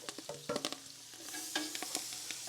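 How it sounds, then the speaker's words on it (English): Onions and herbs go into a hot pot for tomato sauce and sizzle, with scattered sharp pops and stirring clatter over a steady frying hiss. "So I'm going to add in my onions. Be careful, that is going to pop."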